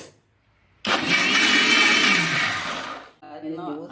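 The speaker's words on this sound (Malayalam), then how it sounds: "ഇതിന് ശേഷം ഒന്നുകൂടെ അടിച്ചെടുക്കാം." A mixer blender whirs loud and close as it blends guava juice with ginger. The motor starts abruptly after a short silence, holds a steady high whine for about two seconds, then winds down and stops, followed by a brief rattle.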